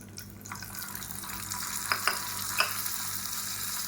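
A hot tempering of mustard seeds, urad dal and curry leaves poured into mint tomato chutney sizzles and hisses steadily, loud and close, with a few sharp crackles partway through and no voices.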